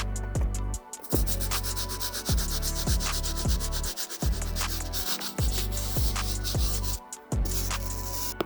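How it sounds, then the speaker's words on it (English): A medium bristle brush scrubs the midsole of an Air Jordan 1 Satin sneaker in steady, close, rhythmic back-and-forth strokes, a continuous rasping rub with only brief pauses between passes. "I'm gonna use the medium bristle brush"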